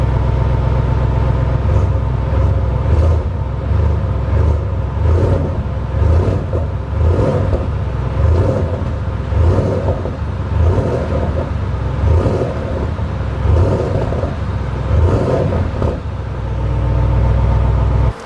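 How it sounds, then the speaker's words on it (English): An Audi RS7 engine running steadily with a deep, loud low rumble, small surges in the rhythm suggesting light revs, heard close and continuous throughout with no talking. "you heard I gave it a little rev there"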